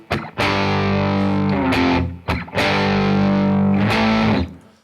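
Heavily distorted electric guitar power chords ring out loud and sustained in two big strikes, each starting with sharp pick attacks and then ringing on before fading at the end, with no talking.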